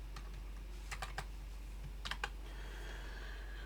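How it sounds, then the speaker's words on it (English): Keys tapped on a computer keyboard while coding in Octave, a few short clusters of close clicks separated by pauses, over a steady low electrical hum. "We can manually type in the legend"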